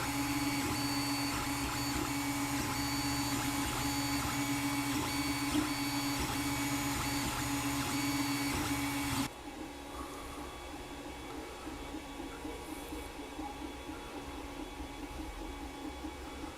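Creality Ender-3 Pro 3D printer running with a steady mechanical whine and motor hum; midway the sound drops sharply to a much quieter, duller drone with only a faint high whine left.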